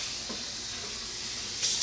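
A steady hiss of running water pours from a kitchen faucet while food is rinsed, close and continuous with a brief brighter splash near the end.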